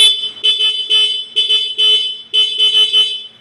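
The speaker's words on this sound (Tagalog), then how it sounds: "horn." During a pre-delivery inspection of a new car, its electric horn is tested with a series of short and longer honks, loud and close, with brief gaps between them.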